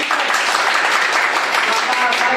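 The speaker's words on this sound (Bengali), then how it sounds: "সো আমরা প্রত্যেকে একটা করতালির মাধ্যমে উইশ করি" An audience claps steadily to welcome top leader Harun Rashid at an organisation's gathering: a continuous, even wash of many hands applauding together, fairly loud throughout.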